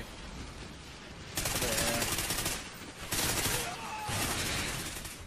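Continuous explosions and gunfire in the Call of Duty Ghosts Blitz match on the FreeFall map, loud dense bursts of automatic fire and blasts surging in two waves, with a brief spoken word under the din.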